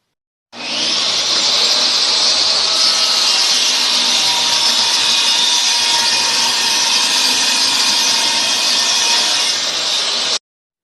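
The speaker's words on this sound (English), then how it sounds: "there are my preliminary cuts using the table saw" A table saw whines loudly and steadily as it cuts wood for building a fiddle, one continuous close-up cut with a bright high hiss from start to finish.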